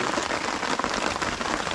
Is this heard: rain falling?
yes